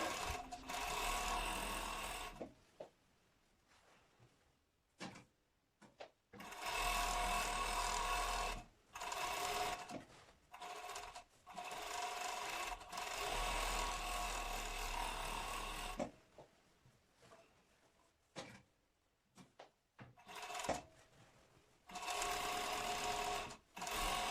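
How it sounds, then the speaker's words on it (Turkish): An overlock machine runs in several bursts while sewing the seams of a child's salopette, a close mechanical whirring hum that starts and stops with quiet pauses between runs, and no voice. "Sırada tabii ki overlock var."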